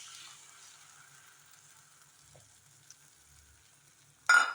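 Ground lentil paste for sambar poured into a hot pan, with a faint steady hiss that breaks into a sudden loud sizzling burst near the end, no talking.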